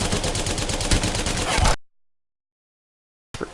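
Havoc energy rifle firing in Apex Legends, a loud sustained automatic burst of rapid shots for under two seconds, then silence before a brief return of sound at the end.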